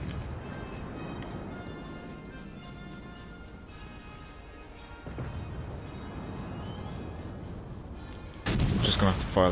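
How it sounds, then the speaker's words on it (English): Warship turret guns fire in a naval video game, a sustained rumbling barrage of distant booms that swells louder near the end with a sharp, close blast. "I'm just gonna have to fire that turret."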